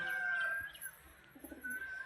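Black pigeons coo softly close by in a couple of low, throaty calls, with faint chirps and light rustling in an otherwise quiet setting.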